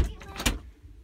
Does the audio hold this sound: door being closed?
yes